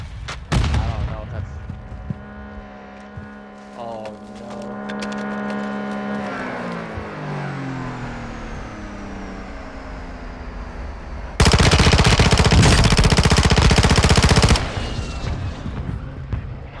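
Explosions and gunfire from Call of Duty: Modern Warfare II, a mortar strike landing as loud booming bursts, with a dense, harsh blast of noise near the end over ongoing game sounds and voice chat.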